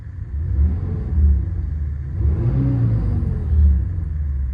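A 2001 Mitsubishi Shogun 3.5 V6 petrol engine rumbles close by, its deep growl rising and falling through several revs in a steady, throaty rhythm.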